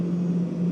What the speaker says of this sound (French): c'est un avion qui se dirige vers nous